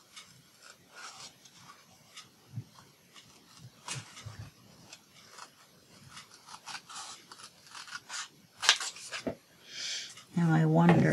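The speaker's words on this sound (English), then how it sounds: "I actually like fussy cutting, but even with these big fat scissors" Big fat arthritis scissors fussy-cutting paper, giving soft rasping snips and rubs up close, intermittent and fairly quiet, with a louder burst near the end.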